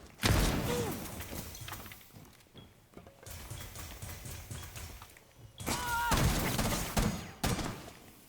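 Gunfire in the video game Rainbow Six Siege comes in loud, close bursts of rapid shots with short pauses between them, and the bursts return repeatedly.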